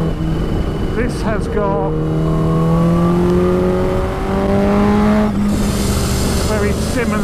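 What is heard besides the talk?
Kawasaki Ninja H2 supercharged motorcycle engine revving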